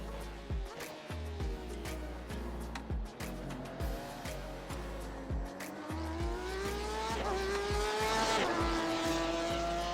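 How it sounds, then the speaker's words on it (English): A Porsche GT race car in the iRacing sim at Monza revs hard through rapid upshifts, each gear change a sharp stutter. Its engine note climbs and swells louder toward the end, with a faint tire squeal alongside it. "I love the way the Porsche sounds"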